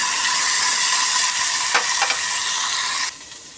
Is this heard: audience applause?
no